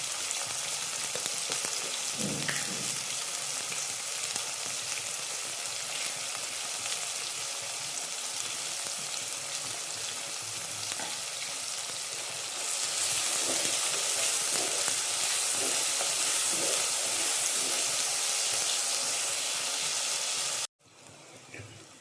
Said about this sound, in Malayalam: അതിലേക്കൊരു 10 ചെറിയുള്ളി ചതച്ചത് ഇടുന്നു. അതൊന്ന് ഇടയ്ക്ക് ഒന്ന് മൂത്ത് വരാനായിട്ട്